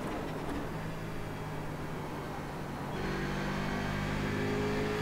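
Corvette C7 DP race car engine in the iRacing simulator at Road Atlanta, a continuous loud in-car engine drone that steps up in pitch and intensity partway through as it accelerates.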